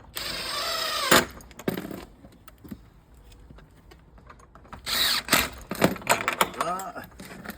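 A power drill fitting hardware while hanging a standard gate, with short whirring bursts and rattling metal clatter between quieter pauses, close by, with voices talking around it.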